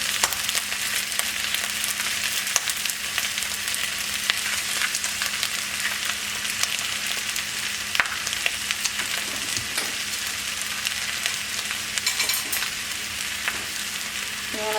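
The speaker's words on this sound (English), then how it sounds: "Just stir the eggs constantly in the middle here." Eggs stirred constantly as they fry in a pan for fried rice, giving a steady broadband sizzle across the whole stretch with light scraping strokes from the utensil and no talking.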